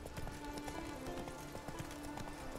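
Roach, the horse in The Witcher 3, gallops with a steady, rapid clip-clop of hooves running through the whole stretch, close and fairly loud over faint background game sounds.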